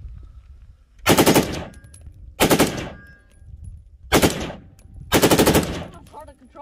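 A 3D printed AR-15 fitted with a Hoffman Tactical Superlower V2.4 fires on full auto in four loud, close bursts of rapid shots, separated by short pauses.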